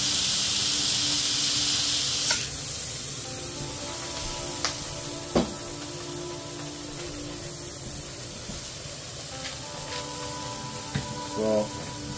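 Ground beef balls pressed flat on a hot grill for smash burgers, a loud steady sizzle with spatters that eases into a softer frying hiss, broken by a few clanks and scrapes of the spatula.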